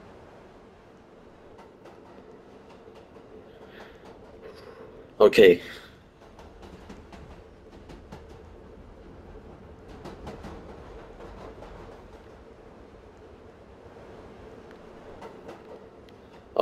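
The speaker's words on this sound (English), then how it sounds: "Okay, we're riding on the train." Steady low rumble of a video game train rolling on rails in Roblox Jailbreak, with faint rhythmic clatter, a loud brief burst midway, and a voice speaking briefly.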